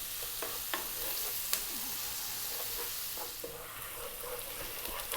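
Chopped garlic frying over medium heat in a pan, a steady close sizzle with occasional scrapes and taps of stirring.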